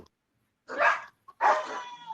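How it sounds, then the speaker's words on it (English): Several dogs in a house bark in short, loud, close bursts, two main barks separated by silence with a faint yip between them, heard alone without talk. "Hey, dog, shut up. yeah. I can't hear. There's so many dogs."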